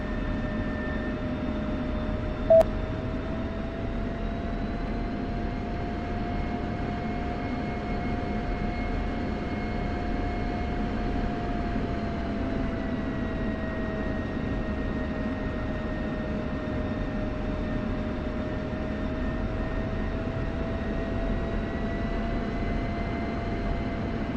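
Steady jet engine drone from an aircraft holding on runway 28 before takeoff in a Syria-set flight simulation game, a continuous loud whine with tonal hum and no rise in power, constant throughout.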